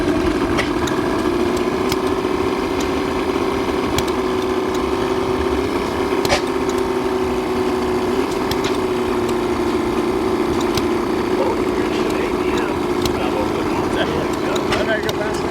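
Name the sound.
antique gas engine running at tractor show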